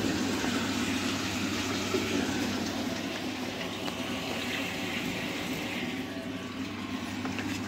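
Water draining steadily in a rotameter calibration lab, a continuous rushing, bubbling flow close by with a low mechanical hum underneath, with no break for the whole stretch.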